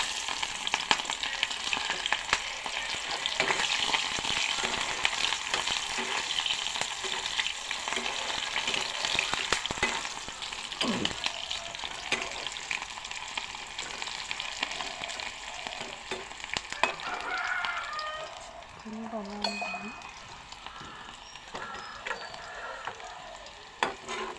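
Onions and a couple of whole chillies frying in oil as chicken with radish pods is begun, a continuous close crackling sizzle with stirring clatter and occasional spatula knocks, no voices.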